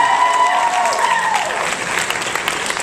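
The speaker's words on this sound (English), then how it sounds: "Please give a round of applause, Mr. Lumsden." School senior assembly audience applauding in a gym or hall, with loud crowd clapping and some cheering. A fading tone sounds at the start before the clapping takes over.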